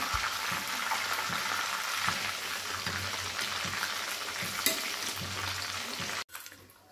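Chicken pieces fry in hot oil with a dense, continuous crackling sizzle and faint rhythmic stirring thumps, close and steady until the sound cuts off near the end.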